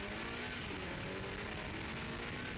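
A TVR Tuscan race car's engine drones steadily at a distance during a 2003 TVR Tuscan Challenge race, a faint continuous roar with no clear pass-by peak.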